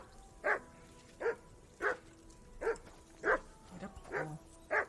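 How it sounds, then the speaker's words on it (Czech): In the video game Kingdom Come: Deliverance 2, a dog barks about seven times, one bark roughly every 0.7 seconds, clear and fairly close. "zavolej si toho psa k sobě"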